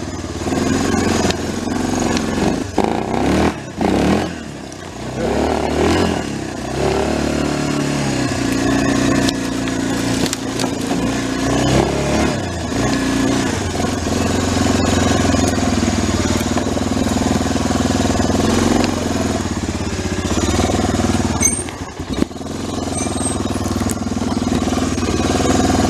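Engine of Honda's first 4x4 ATV, with a fuel starvation problem, drives through heavy snow: a continuous loud, rough mid-pitched drone that rises and falls with throttle, with no talk.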